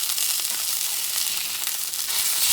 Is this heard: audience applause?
no